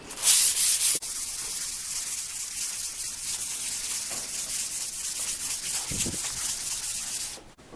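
Hand sanding of a cast iron top at up to 320 grit gives a steady, close, abrasive rasp. The scrubbing runs loud and unbroken for several seconds, then stops, with no voices.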